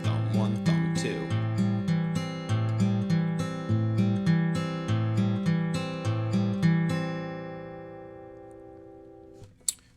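Fingerpicked guitar plays a Travis-style forward roll, the thumb alternating between two bass strings under steady treble plucks; an even, repeating pattern rings clearly and alone, then the last chord decays into near silence.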